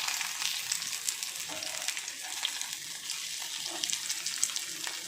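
Aval (flattened rice) cutlets sizzle and crackle steadily in hot oil in a pan just after being flipped. The frying noise is close and even, with a few small pops.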